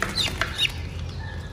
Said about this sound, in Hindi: मुर्गी मेरे ख्याल में आजकल जो है ना कुड़क हो गई है